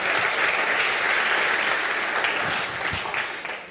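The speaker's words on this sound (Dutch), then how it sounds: "Applaus." Audience applause for a speaker at a Dutch evening talk event, a dense, steady clapping from a seated crowd that stays loud throughout and eases slightly toward the end, with no talking over it.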